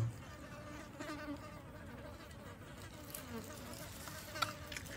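Flies buzzing around a freshly caught box of fish and crabs in an old-growth forest, a faint steady insect drone with whining passes close by, no talking.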